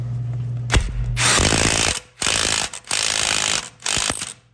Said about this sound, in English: torque that to spec